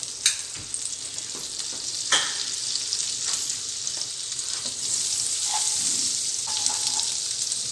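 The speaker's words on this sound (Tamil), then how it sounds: "ஃபஸ்ட்டு நாம் பேனை ஹீட் பண்ணிவிட்டு அதில் 1 டேபிள்ஸ்பூன் பட்டர் போடணும்." Butter sizzling steadily in a hot pan, a constant bright hiss with a few small pops and clicks, close by and without talk.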